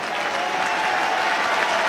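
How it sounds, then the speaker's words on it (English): Steady stadium crowd applause at an Australian football match between Melbourne and Brisbane, a dense continuous wash of clapping from a large crowd, loud and even throughout with no voices standing out. "a big round of applause as Hipwood hitting the scoreboard"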